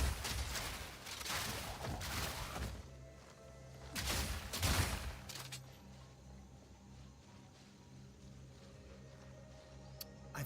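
Crossbow artillery firing in Path of Exile 2, a rapid barrage of loud crashing impacts in the first half that thins to scattered hits and fades out.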